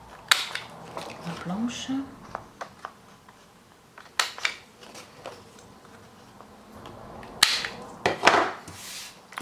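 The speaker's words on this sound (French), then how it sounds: "Je prends la petite perfo qui était vendue avec" Small craft paper punch snapping through an envelope, a few sharp clicks and crunches scattered between pauses, close by, with someone speaking French around them.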